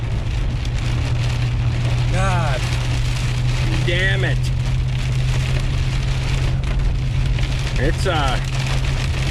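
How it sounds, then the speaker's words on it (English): Heavy rain pounds steadily on a vehicle during a road trip, a dense, loud wash that never lets up, while a voice breaks in with short curses over the downpour. "Shane's getting fucking hammered with rain."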